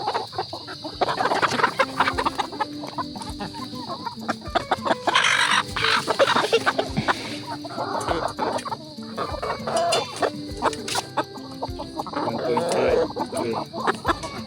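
Farm chickens cluck and squawk continuously at moderate distance, with a steady high whine and scattered knocks; voices murmur faintly in the background.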